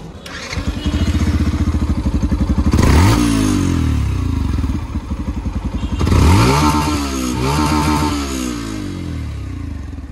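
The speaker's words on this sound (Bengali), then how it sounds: "সো বাইকে ওঠার আগে আমি আপনাদের একটু এক্সস্ট নোট শোনায় দিতে চাই।" A Yamaha FZS V4 motorcycle idles with a steady deep thumping exhaust, then is revved hard twice, each rise sweeping up and falling back to a throbbing bass-heavy idle, close and loud.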